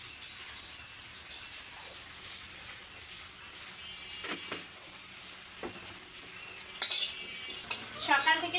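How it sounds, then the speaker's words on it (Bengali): Cumin seeds dry-roasting in a pan while being stirred: sparse, faint metallic scrapes and clinks of a spoon against the pan, with a soft sizzle and a few louder clatters near the end. "রান্না করার আগে জিরের গুঁড়োটা করে নেব, জিরেটা আগে ভেজে নেব"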